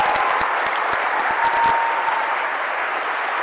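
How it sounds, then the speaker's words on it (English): A live audience breaks into a steady round of applause, dense clapping filling the room at an even, sustained level with no voices over it. "Let's give her a beautiful round of applause"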